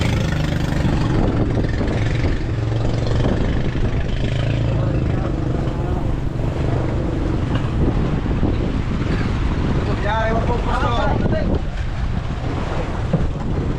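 A service boat's new engine runs steadily with loud wind buffeting the microphone, and voices can be heard talking over the noise.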